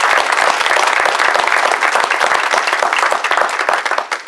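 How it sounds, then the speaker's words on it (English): Guests at an awards dinner burst into loud, close applause, many hands clapping in a thick steady roar that starts to thin and break into scattered claps toward the end. "So can we give him another round of applause?"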